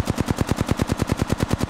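Rapid automatic gunfire in Apex Legends, a fast even burst of about sixteen loud, close shots in steady rhythm, with no talking.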